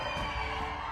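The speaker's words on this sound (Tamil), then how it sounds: "ரசிகர்களின் கரகோஷம் எழுந்தது." Fans at the Thangalaan music launch event cheering and shouting as a loud, dense crowd roar, steady and close for a brief moment.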